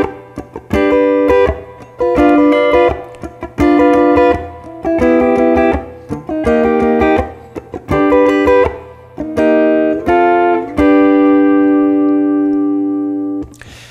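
Funky blues rhythm guitar strumming choppy sixteenth-note chords, with short muted scratches between loud chord stabs moving through changes, ending on a sustained ringing chord; played alone with no talking.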